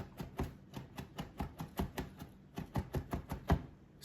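A knife chops onions on a cutting board for fried rice, a steady run of sharp close thuds about four per second, with a slightly harder knock near the end and no talk.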